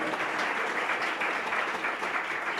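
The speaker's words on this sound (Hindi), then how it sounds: "तालियां तो बजाओ" An audience at a Jain religious discourse breaks into steady, dense applause, a continuous wash of many hands clapping at even loudness throughout.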